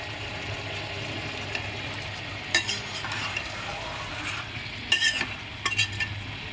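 Chicken and potatoes are stir-fried in a kadai with oil, making a constant soft sizzle broken by bursts of spatula scraping and clattering against the metal, with no voices.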